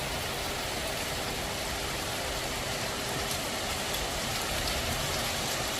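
Constant heavy rain in cold weather at about 16 degrees, a dense unbroken hiss of drops falling close by, loud and steady throughout.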